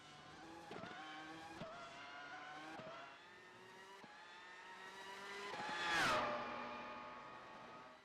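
Race cars lap the circuit during qualifying in Montreal, their high-revving engines droning and shifting pitch as they pass, with one car sweeping close by with a rising and falling whine.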